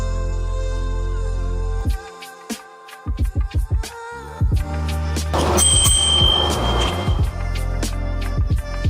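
A bicycle bell newly clamped on the handlebar of a Himiway C5 e-bike rings in a series of quick sharp dings, then a longer ring, loud and close, with no voices.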